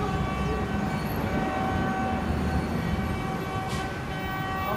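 Train rolling along rails with a steady, loud rumble and faint rhythmic clatter throughout, and a brief horn-like tone near the end, with no voices.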